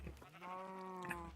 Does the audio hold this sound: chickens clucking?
no